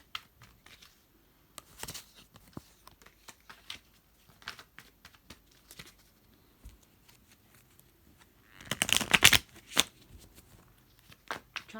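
Tarot cards being shuffled by hand, with scattered soft clicks and riffles throughout and a louder, denser burst of shuffling near the end, close and otherwise quiet.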